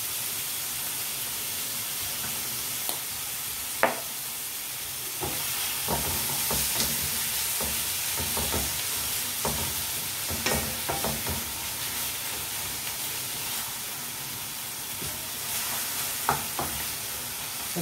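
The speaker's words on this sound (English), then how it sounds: "Sote lang natin na mag-soft yung ating kamati." Chopped tomatoes sauté in a hot pan, giving a steady sizzle and hiss with scattered clicks and scrapes of stirring over several seconds.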